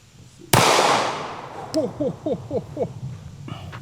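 A single sharp, loud gunshot from a .40 S&W Glock 23 fired at a Premier Fortis bulletproof helmet, with a short echoing tail and brief voice sounds after it.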